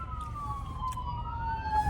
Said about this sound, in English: I thought that was a police car.